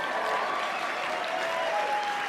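An audience at an animation awards ceremony claps steadily in a dense, even wash of applause that holds at a uniform level throughout.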